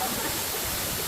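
Batlag waterfall in Tanay, Rizal roars as a steady, dense wash of falling water filling the whole short stretch, loud and close with no break.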